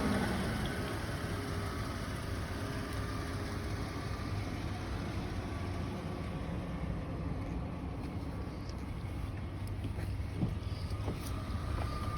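A 2002 Chrysler Sebring engine runs steadily at idle, a continuous low rumble with broadband noise and some wind, no speech, holding even for about twelve seconds.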